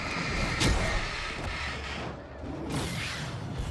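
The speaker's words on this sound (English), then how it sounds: "And throw a flashbang." A flashbang thrown in the video game Alan Wake goes off with a sharp burst, followed by rumbling in-game noise and a second hit near the end.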